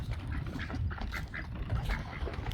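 Ducks and geese quack and honk continuously at a backyard feeding area, a dense, busy chorus of overlapping calls close by with no voices.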